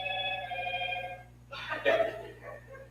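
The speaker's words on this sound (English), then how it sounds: "If it's for me, I'm not taking phone calls, Charlie, okay?" A telephone bell rings in a steady trill for just over a second, then stops, followed by voices and a short burst of laughter close by.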